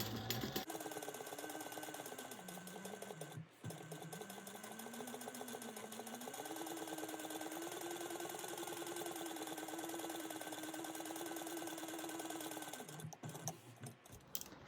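A sewing machine runs a long basting stitch around a fabric bag, a steady continuous whir with a rapid needle rhythm for over ten seconds, stopping briefly once and again near the end.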